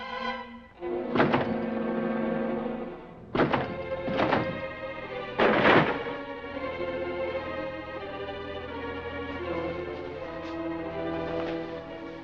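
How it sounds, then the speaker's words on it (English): Heavy thuds pound against a door being broken down several times in quick succession, booming over a sustained tense musical backdrop in a 1946 crime film. "Break that door down."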